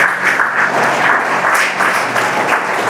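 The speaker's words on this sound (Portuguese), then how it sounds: "aplauda o nome do Senhor Jesus" Church congregation applauding in worship, a dense, steady wash of many hands clapping close and loud throughout, with no speech over it.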